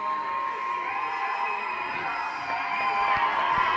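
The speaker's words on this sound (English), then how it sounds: "We are going to have the crowd going crazy." Arena crowd at a minor-league hockey game, West Michigan Sentinels versus Northern Michigan Warhounds, cheering and whooping wildly, a dense steady roar that swells slightly toward the end.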